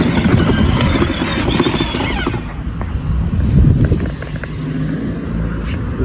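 Ride-on Power Wheels toy car upgraded with an 18v lithium battery driving over grass, a continuous close motor whine with rumbling wheel and terrain noise that dips and swells slightly as it moves.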